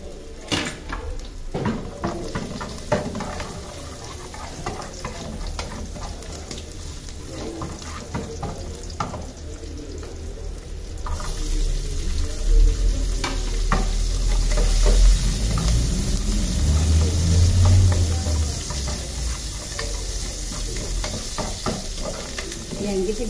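Pork and shrimp sautéing in a pan give off a loud, continuous sizzle, with frequent clinks and scrapes of a utensil against the pan. The frying swells louder partway through.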